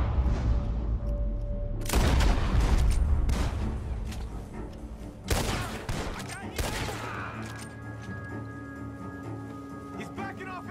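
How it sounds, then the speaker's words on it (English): Gunfire in the Western game Red Dead Redemption 2: several loud, close shots and booming bursts, spaced a few seconds apart with echoing tails, over a rumbling battle ambience. "High velocity shots, that's what."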